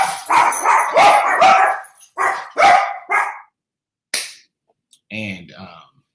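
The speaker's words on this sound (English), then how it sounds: "the dog say hello" A dog barks in a series of sharp, loud, close barks, several in quick succession at first, then spaced single barks and a final short whine-like yelp.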